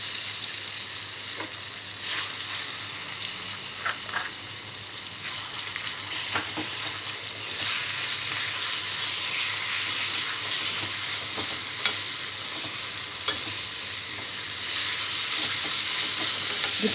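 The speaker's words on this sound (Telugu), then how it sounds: "తాలింపు ఫ్రై అయిన తర్వాత ముందుగా నూరుకున్న పచ్చడి వేసుకోవాలి." A ground coconut and onion chutney fries with its tempering in a pan, making a continuous soft sizzle broken by occasional scraping stirs and faint pops. No speech is heard.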